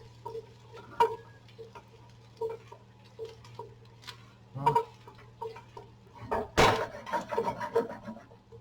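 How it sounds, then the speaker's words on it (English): Celery stalks, carrots and ginger being stirred in a pot, giving soft knocks and scrapes at a loose, uneven rhythm over a low steady hum, with a sharper clatter near the end. "I put the celery stacks, the carrots and the ginger. I will give them a stir"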